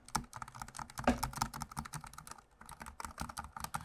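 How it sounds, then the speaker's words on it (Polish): Rapid typing on a gaming keyboard with optical switches, a steady patter of fairly quiet, close keystrokes with a brief pause midway, no voices. "tutaj sobie jeszcze posłuchajmy jak działają te przełączniki"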